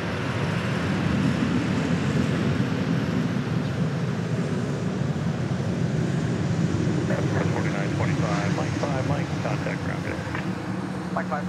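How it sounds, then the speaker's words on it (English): A Boeing 737-700 airliner arriving from Midland, Texas, landing at Dallas Love Field, a loud steady roar of jet engines throughout with a whining rise near the end, heard outdoors from nearby. "A 737-700 coming in from Midland, Texas."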